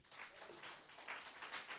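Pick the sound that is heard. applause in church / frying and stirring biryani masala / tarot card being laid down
applause in church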